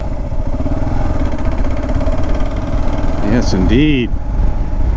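A Kawasaki KLR650 motorcycle engine runs steadily at close range under a voice, with a brief whining warble near the end.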